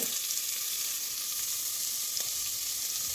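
Sliced onions and green chilies sizzle steadily in hot oil in a pan, a continuous bright frying hiss with no pauses, fairly close and alone.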